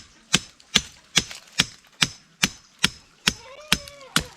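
Regular hammer strikes ring out on a metal rod being driven into the ground, about ten sharp blows at an even pace, each with a short metallic ring.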